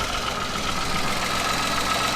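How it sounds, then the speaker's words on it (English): A Peugeot car engine idles while warming up, a low, even rumble with a faint ticking texture, steady and moderately quiet throughout the short stretch, no talking. "Right, so I'm just warming the engine up because I've brought some coolant."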